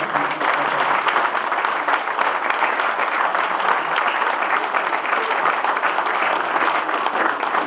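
An audience at a press conference in Monte Carlo applauds a circus flyer, a steady, dense wash of clapping that runs evenly for several seconds with no voices over it.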